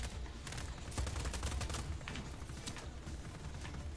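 Sustained machine-gun fire from a deployable-cover gun in Just Cause 4, a dense rapid rattle of shots rolling continuously and fairly loud for several seconds with low rumble beneath.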